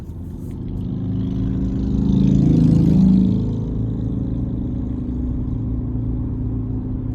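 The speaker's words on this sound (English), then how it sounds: "Now what I like about the Ecoboost V6 is when those turbos kick in, they really put in some work." A 2025 Ford F-150 XLT with the 3.5 EcoBoost twin-turbo V6 accelerates from the cabin. The engine drone swells to a loud peak midway, then eases back to a steady cruising hum.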